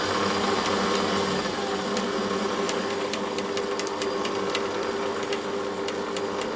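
Metal lathe cutting a ball-turning tool part, a loud steady machine hum with layered tonal whine and scattered sharp ticks of the cut, running continuously without speech.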